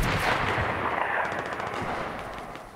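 Rapid gunfire crackles through a Fortnite match in a dense, continuous burst of shots that stays loud for a few seconds with no voice over it.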